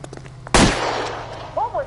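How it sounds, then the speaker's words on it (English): A sudden loud explosion in the video game L.A. Noire, a single heavy blast that decays over about a second, followed by faint game sounds. "Was that an explosion?"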